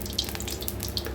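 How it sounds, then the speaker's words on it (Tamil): Oil streams from a container into a kadai on the stove while drumstick-stem rasam is being cooked, a short close liquid trickle with a few splashy spikes. "அதில் கொஞ்சம் எண்ணெய் ஊற்றிக்கலாம்"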